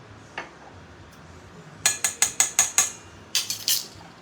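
Mason jar lids clinking: a quick run of six sharp metallic taps, then three more close together after a pause, each bright and distinct against a quiet background.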